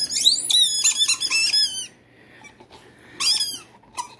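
A dog's squeaky toy gives rapid bursts of high squeaks, then a short quiet pause, then another sharp burst and a faint final squeak, loud and close.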